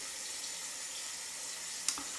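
Steady broadband hiss of water running from a tap into a ceramic cup before a shave, continuous and fairly close, with a brief sharp clink near the end.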